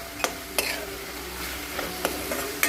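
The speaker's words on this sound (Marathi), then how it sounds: "आता हे मूग सुद्धा आपण यातच छान परतवून घेऊया।" Sprouted mung beans sautéed in masala oil, a soft steady sizzle with several spatula scrapes and taps against the pan at uneven intervals, close up, no voices.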